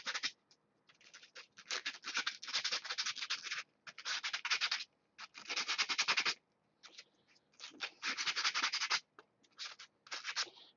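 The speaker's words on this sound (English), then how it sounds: "And then, of course, your favorite part, sandpaper." Sandpaper rubbed over a terrain model for a tabletop wargame, a dry rasping scratch in long bursts broken by short pauses, steady and close.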